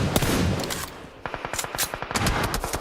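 Rapid bursts of gunfire from a PUBG Mobile esports match, sharp close cracks in quick irregular volleys with a brief lull before the shooting resumes.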